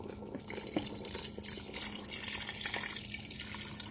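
Tap water runs steadily into a pot of marinated pork to rinse it, a continuous close splashing and trickling flow with faint drips, no talking.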